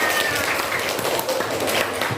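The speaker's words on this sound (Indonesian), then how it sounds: "Ya, tepuk tangan untuk kalian semua" Children in a classroom applauding together, a steady, fairly loud patter of many small hands clapping at once, with faint voices mixed in.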